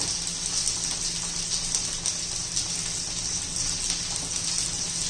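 Faint, steady trickling of water poured into batter, continuous with a soft hiss, low and even throughout.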